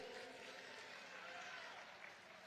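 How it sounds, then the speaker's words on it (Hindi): Steady, dense clapping from a large crowd at a political rally in Ghatkopar, Maharashtra, with Amit Shah; a continuous, fairly distant wash of applause with no distinct gaps. "ताली बजाइए"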